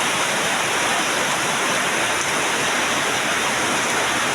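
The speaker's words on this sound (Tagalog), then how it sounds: "Yan ang ulan, galing sa kalangitan." Heavy rain pours down steadily during flooding, a dense, loud, unbroken hiss of water with no pauses.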